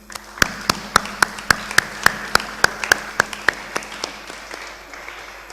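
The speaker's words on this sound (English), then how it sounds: "Please give your teachers and loved ones a huge round of applause." Audience applause at a grade 6 graduation ceremony, heard as a run of evenly spaced, loud, sharp claps in a steady rhythm over a softer bed of scattered clapping, gradually thinning toward the end.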